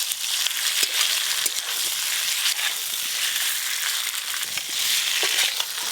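Ground fried spice paste with a little turmeric being stirred into potato and pointed gourd in a pan, a loud continuous sizzle with scraping and crunching stirs close up.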